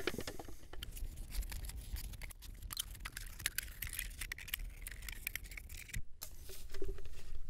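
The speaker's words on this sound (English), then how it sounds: "you want to cut smoothly all the way across where that line is" A plastic bottle being cut across with a blade, close crinkling, snipping and crackling plastic sounds in irregular bursts, fairly quiet with no talk.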